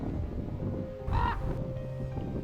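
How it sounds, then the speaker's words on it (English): Ravens give a single short, hoarse caw at close range over a quiet outdoor background. "Observing these beautiful black birds, so black they shine in the sun."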